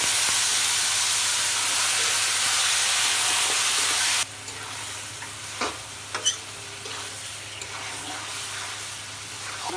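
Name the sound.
beef frying and being stirred in a pan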